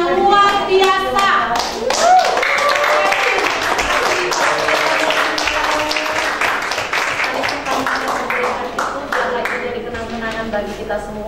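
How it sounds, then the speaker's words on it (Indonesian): Sustained applause from an audience at a graduation ceremony in Jakarta, dense clapping at steady strength throughout, with voices and cheering mixed in over it. "berikan tepuk tangan yang luar biasa"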